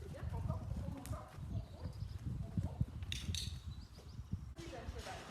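A horse in a riding session, its hooves clopping on the ground as it turns, with a voice giving commands over it and birds faintly in the background.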